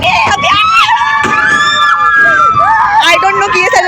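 People scream continuously and loudly on a spinning amusement ride, many voices overlapping in high, wavering shrieks close by, with crowd noise underneath.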